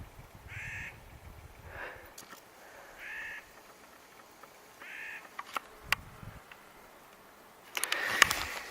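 Loud, harsh calls of high-elevation mountain birds ring out in a subalpine meadow on Mt. Adams near 6,000 feet. They come as a handful of separate caws spaced across several seconds, with a brief burst of clatter at the end.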